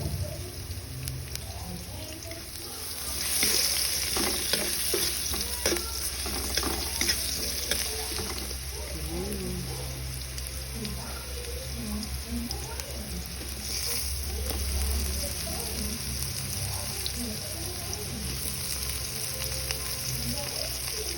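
Garlic and ginger sautéing in a pan, a steady sizzle with stirring scrapes, while someone talks over it.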